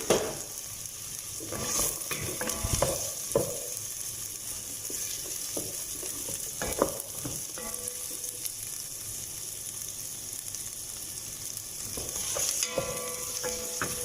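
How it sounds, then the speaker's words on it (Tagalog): Chopped onion sizzles in a pan over medium heat, a steady close frying hiss broken by a few stirring scrapes, no speech. "I will fry this one until it will become translucent, the color of the onion"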